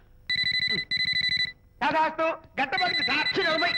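A telephone rings in two short, loud electronic trills with a brief gap between them. Speech follows and carries on over a further ringing tone near the end.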